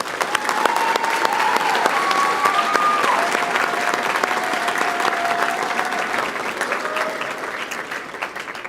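An audience at a GED graduation ceremony at Idaho State University applauds, a dense, steady wash of many hands clapping that holds for several seconds before tapering slightly, with a faint tone drifting underneath.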